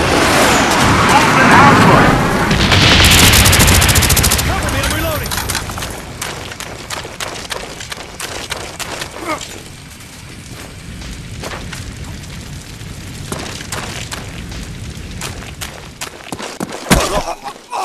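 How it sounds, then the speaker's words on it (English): A napalm air strike in Call of Duty Black Ops on a jungle map sets off a loud roaring blast and sustained burning rumble, followed by scattered sharp gunshots and crackling. "Napalm strike coming in."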